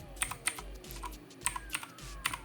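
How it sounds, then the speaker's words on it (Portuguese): A command being typed on a computer keyboard, a quick irregular run of crisp, close clicky keystrokes with short pauses between bursts and no talking. "Aqui vocês vão digitar diskpart,"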